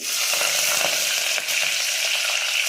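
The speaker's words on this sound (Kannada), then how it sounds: "ಈಗ ಎಣ್ಣೆ ಕಾದಿದೆ, ಸ್ವಲ್ಪ ಈರುಳ್ಳಿ, ಎಣ್ಣೆ ಕಾದಿದೆ, ಈರುಳ್ಳಿ," Onions fry in hot oil in a pan, a steady loud close sizzle with a dense hiss throughout and faint stirring crackles.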